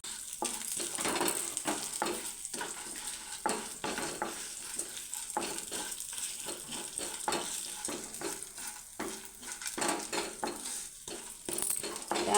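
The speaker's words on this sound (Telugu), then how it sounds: "ధనియాలు, ఎల్లుల్లిపాయ దోరగా వేపుకోవాలి" Dry roasting lentils, coriander seeds and garlic in a pan, heard as a continuous rustling rattle of seeds and grains being stirred against the metal, with a faint sizzle and rhythmic scraping strokes.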